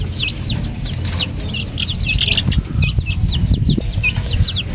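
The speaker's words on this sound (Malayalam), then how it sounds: "ഇതാണ് നമ്മുടെ കോഴിക്കുഞ്ഞ്." A newly hatched chicken chick peeps in rapid, high-pitched bursts close up, repeating through most of the moment over soft handling and rustling noises.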